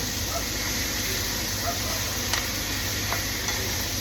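Pork sautéing in oil, stirred with two ladles, a constant close sizzle with occasional scraping clicks of the utensils against the pan.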